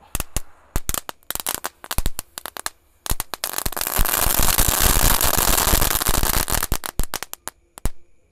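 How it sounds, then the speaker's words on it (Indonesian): Many dino egg firecrackers going off: sharp separate pops at first, then a dense, loud crackling burst in the middle, thinning back to scattered snaps at the end. "menyalakan banyak sekali mercon telur dino pretek"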